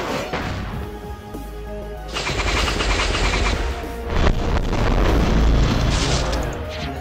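A Dozer Bomb detonates in a video game, heavy booming blasts with crackling, rapid gunfire-like bursts layered over a continuous rumble, loud and dense throughout.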